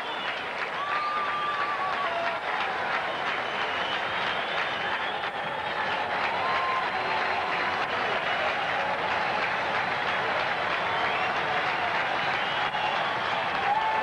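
A baseball crowd at a Red Sox at Oakland A's game roars steadily with a full-count strikeout looming, a dense wash of cheering and whistles that holds loud and even throughout.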